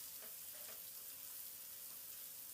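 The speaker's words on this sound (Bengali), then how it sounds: "এবার ডিমটা দিয়ে নাড়াচাড়া করে ডিমটাকে একটু টুকরো টুকরো করে নেব।" Egg stirred and broken up in a pan of frying cauliflower and potatoes gives a faint, continuous sizzle with soft scraping stir strokes.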